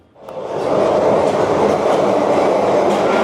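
Disney California Adventure monorail rushing past nearby, a loud rumbling roar that swells quickly from quiet and holds steady with faint rail clatter.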